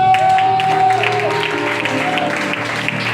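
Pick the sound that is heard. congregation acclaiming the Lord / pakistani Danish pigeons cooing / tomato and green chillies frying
congregation acclaiming the Lord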